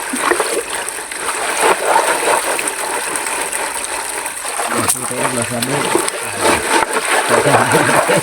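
Water splashes and sloshes steadily as gold is sluiced by hand on a farm, a continuous wet churning with people talking over it throughout.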